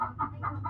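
Chickens clucking close by in short repeated bursts, a steady low hum running underneath.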